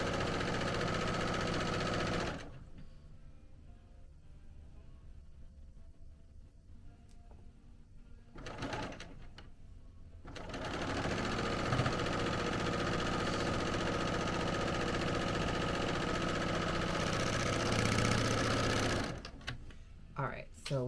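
A sewing machine stitches a shoulder seam on a sweatshirt, running in two steady bursts of mid-pitched mechanical whirring with a quiet pause between them, close by and loud while a person talks.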